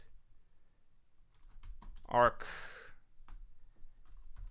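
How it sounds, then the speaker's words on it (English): Soft keyboard clicks tap away at a computer in a quiet room, light and irregular, while someone says a word briefly in the middle. "I don't know what I'm typing here."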